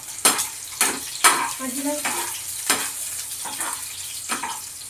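Prawns fry and get stirred in a pan for a prawn fried rice, with a steady sizzle and repeated sharp scrapes of the spatula. A person speaks briefly over the cooking.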